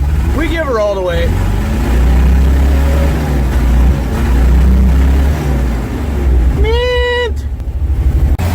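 A Ford F-600 truck engine cold-started at -22°F, its loud heavy rumble running throughout, with rising whining sweeps near the start and again near the end as the throttle is opened.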